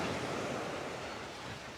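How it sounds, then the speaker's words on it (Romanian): Ocean waves breaking on Puka Beach on Boracay, a steady broad wash of surf with wind buffeting the microphone, continuous and fairly loud with no talk. "Deși valurile sunt mărișoare, după cum puteți observa."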